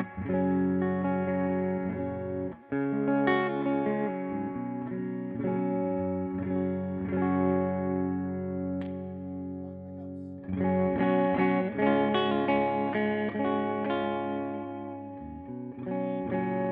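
Epiphone ES Les Paul Pro electric guitar played through the neck pickup, clear sustained chords and notes ringing out with a short break, then a louder strummed passage.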